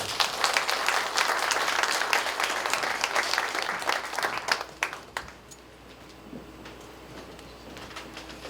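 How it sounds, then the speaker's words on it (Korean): Applause from an audience greeting an award winner at an indoor memorial ceremony, dense steady clapping for several seconds that thins out and fades, leaving a quiet room with a few stray claps. "축하의 박수 부탁드리겠습니다"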